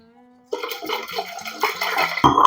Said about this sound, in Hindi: 250 ml अब हम इसमें डालेंगे ठंडा पानी।